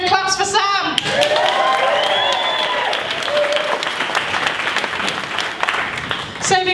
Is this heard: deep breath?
no